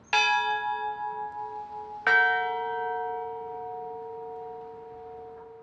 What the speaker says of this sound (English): Which one of these two bells with the left hand is higher in pitch than the other?